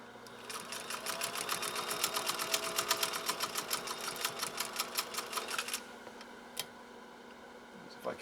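A 1930s GE Model A sewing machine stitches in a fast, steady rattle for about five seconds, then stops, leaving a quiet room with a faint click or two; no one talks over it.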